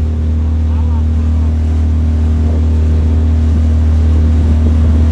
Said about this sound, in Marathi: भारी बोट आली